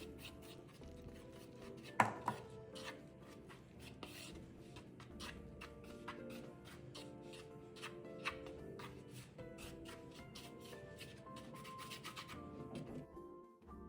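Chopsticks mix flour and hot water for dumpling dough in a bowl, giving a steady, faint stream of soft scraping and light tapping, with one sharper knock early on.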